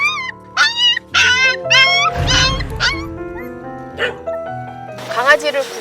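A small dog rescued from a collapsed building whimpers, yips and barks close by in a run of high, wavering cries, while people talk over it and a deeper noise rumbles in the middle.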